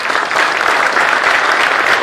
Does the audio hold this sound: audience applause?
yes